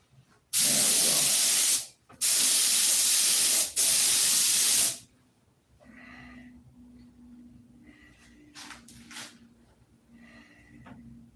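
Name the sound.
spray gun applying a flow coat of paint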